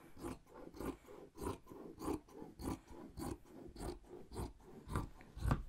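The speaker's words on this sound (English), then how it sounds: "let's go ahead and take that and just cut it straight across" Scissors snip straight across folded fabric for a lounge chair cover, about a dozen crisp, evenly spaced cuts close by with no talking.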